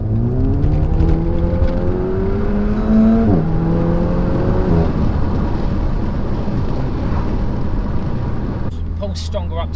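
A tuned car engine runs on a dyno, with a loud rising rev in which harmonics climb steadily, then a gear-change dip, then sustained high-rpm roaring that fades to a rumble. Voices talk over part of the run.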